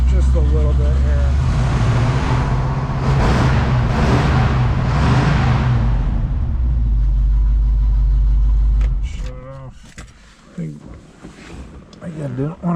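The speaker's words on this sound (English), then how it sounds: "Go ahead and rev it up just a little bit here." A 1967 Pontiac Firebird 400 convertible's engine, cold, blips up in a few short revs over a steady loud idle, then settles back as speech and other sounds take over near the end.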